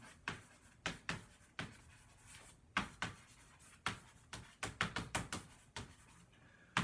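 Pen or marker strokes writing out a math expression, quiet and close, coming as quick rhythmic taps and scratches in irregular bursts with short pauses between them.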